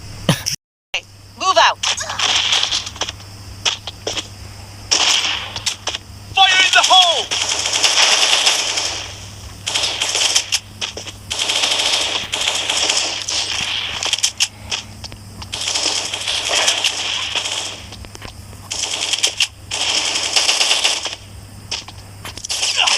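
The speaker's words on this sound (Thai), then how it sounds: "เดี๋ยวพี่เอาไปยิงให้ดูแล้วกัน" HK-47 rifle fire in the mobile shooter Bullet Angel, rapid loud bursts of automatic gunfire repeating in clusters with brief gaps, with someone talking between and over the shots.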